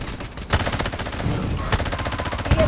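Rapid bursts of automatic gunfire crack loudly in the mobile shooter Delta Force Mobile, short rattling volleys following one another closely with hardly a pause.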